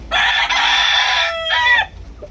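A three-year-old gamecock rooster crows loudly and close up, one long drawn-out call followed by a shorter trailing note.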